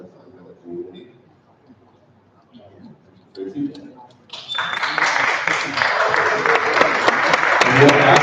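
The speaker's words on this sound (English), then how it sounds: "please hold your applause" Audience applause breaks out at a constitutional convention session, starting suddenly after a few seconds of quiet murmuring and talk, then building into sustained, dense clapping from a large crowd that continues to the end.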